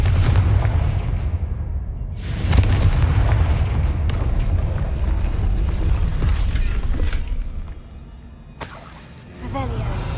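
Confringo blasting-spell explosions in the Hogwarts Legacy video game: several heavy booming bursts with crackling debris over a loud, rumbling game soundscape, with a voice talking throughout.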